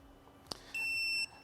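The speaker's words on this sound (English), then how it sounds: "what I want to hear is its little beep" A short click is followed by a single clear electronic beep from a Perception Neuron motion-capture hub connecting, lasting about half a second, bright and close, in an otherwise quiet room.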